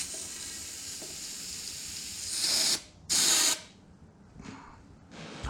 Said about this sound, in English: send a nice sharp spray straight down the barrel